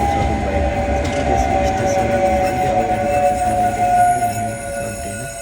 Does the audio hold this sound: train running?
yes